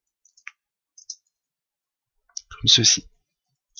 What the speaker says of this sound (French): on clique une première fois, on clique une seconde fois